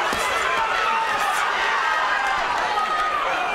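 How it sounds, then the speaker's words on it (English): Crowd at a boxing event roars and cheers in a continuous loud wash of voices, with no breaks throughout. "Crowd getting into it here."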